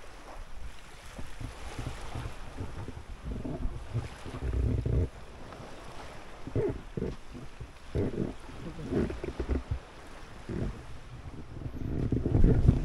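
Strong water surges at a coastline during a very high tide, with waves rushing and splashing in uneven bursts under heavy wind buffeting on the microphone.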